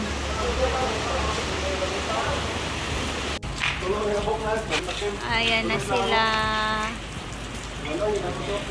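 Heavy rain with gusting wind pours steadily near a river, a dense hiss of drops on a surface, with people talking close by partway through.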